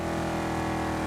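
A race car in Wreckfest on PS5 roars past at speed, its engine a loud, steady, harmonic drone filling the moment.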